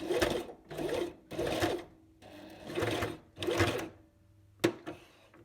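A sewing machine back stitches across a fly front zipper in six short whirring bursts with brief pauses between, then a single sharp click, close and with no voices.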